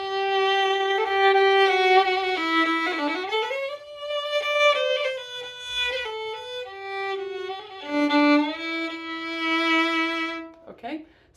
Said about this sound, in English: So when I have a bow that has enough rosin on it, it should sound like this.